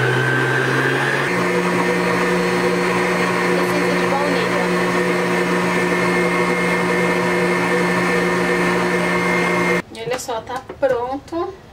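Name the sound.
electric mixer beating egg whites with sugar for cloud cake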